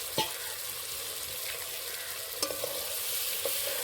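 Prawns and fried vegetables dropped into oily spice paste in a pan: a steady, fairly quiet frying sizzle with a few soft clinks and stirring knocks, no talking.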